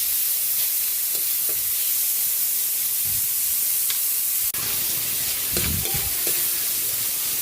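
Onions and tomatoes sauté in a hot pan for ginisang ampalya, giving a steady close sizzle and hiss with a few scrapes and clatters of a utensil stirring, louder knocks near the end; no talking.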